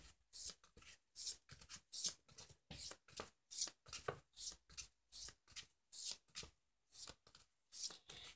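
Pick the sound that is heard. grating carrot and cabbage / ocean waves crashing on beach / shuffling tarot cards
shuffling tarot cards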